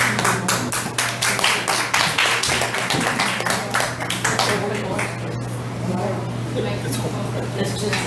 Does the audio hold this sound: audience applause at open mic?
yes